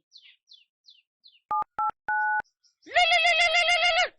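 A phone call being placed: a few faint chirps, then three distinct electronic beeps, followed by a loud sustained buzzing ring tone, close and clear with no voices.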